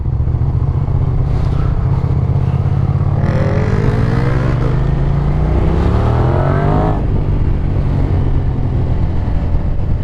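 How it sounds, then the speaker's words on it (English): A 1999–2002 Suzuki SV650S V-twin motorcycle engine revving loudly up close, a throaty rumbling idle rising into a climbing rev and falling back, continuous throughout. "how can you not like the sound of V-twin?"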